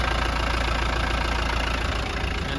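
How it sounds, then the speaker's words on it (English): A 1991 Land Rover Defender 90 with the 200Tdi diesel engine idles smoothly, a steady close rumble with an even, fast clatter and no change in pitch, alone without voices. "Pretty standard, smooth running 200 TDI. Very smooth revving engine."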